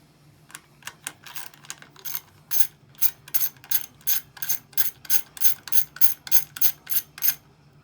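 A ratchet tool backs bolts out of the gearbox cover of a 49cc bike, giving quick repeated clicking bursts in a steady rhythm, close and fairly clear, with no one speaking.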